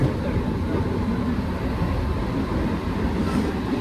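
Continuous loud rumble of a Mumbai AC local train running on tracks, a steady rolling roar with no pauses.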